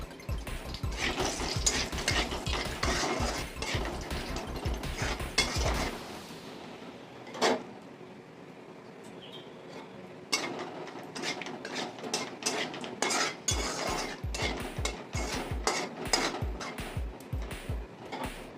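Bay leaves and a dried red chilli are tempered in a pan while a spoon scrapes and stirs, giving rapid repeated metallic clicks and scrapes. Stirring pauses midway with a couple of isolated clanks, then picks up again.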